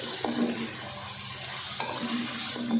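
Steady sizzling and frying hiss of chicken in a pan, with occasional stirring scrapes, close up and moderately loud, no voices.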